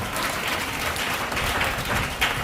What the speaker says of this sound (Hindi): ताली बजा के प्रभु का नाम।